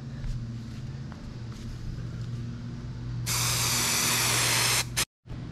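Aerosol adhesive sprays onto a boat trailer bunk in a steady broadband hiss, close and loud, running for a couple of seconds before stopping abruptly, with a low background hum underneath.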